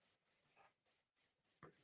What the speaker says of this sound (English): what you can hear at the moment is a black cricket